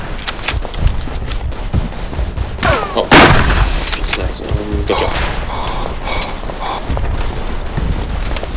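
Heavy World War I gunfire rages in the game Verdun: rapid rifle and machine-gun shots crack in dense bursts, broken by one loud, close artillery blast, all continuing with no pauses.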